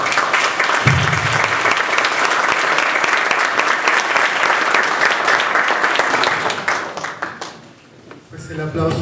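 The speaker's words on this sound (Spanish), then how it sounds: "el aplauso es para los cuatro ponentes" An audience applauds after a panel talk on contemporary democracy, a dense, steady wash of clapping from a large crowd that thins briefly near the end before swelling again.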